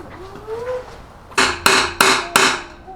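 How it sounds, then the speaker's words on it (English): Four sharp metallic hammer strikes on brass stock, driving a pin on a CRF450 dirt bike, ring out in a quick, even rhythm, close and loud, after a quieter stretch. "we're gonna go ahead and hammer that pin as far as we can"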